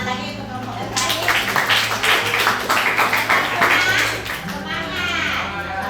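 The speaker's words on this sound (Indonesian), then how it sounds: "Tepuk tangan lagi untuk kelompok yang terakhir." Classroom applause for the last student group after their presentation, a sustained patter of clapping from children lasting several seconds with a steady background hum and some children's voices mixed in.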